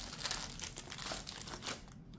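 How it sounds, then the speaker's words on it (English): Sticker sheets being handled and put away while stationery is organised, giving a continuous close crinkling and rustling of paper and plastic that runs throughout. "I'm going to put my stickers in here."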